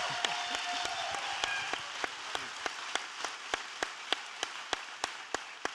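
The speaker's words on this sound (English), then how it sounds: "clap one more time for him" Scattered, rhythmic applause from a small group at a live event at Universal Orlando Resort, individual claps sharp and evenly spaced over a soft hiss, moderately distant.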